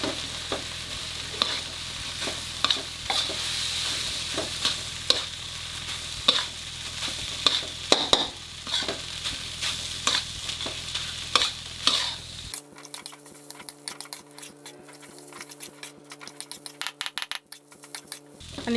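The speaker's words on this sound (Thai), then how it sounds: "เราใช้ไฟแรงนะครับ ผัดให้ข้าวเนี่ยเคลือบด้วยน้ำกะปิ" Cooked rice tossed over high heat in a wok with shrimp paste, four-serving batch for khao kluk kapi, with steady sizzling and repeated sharp scraping and clinking of a spatula against the pan, continuing without speech.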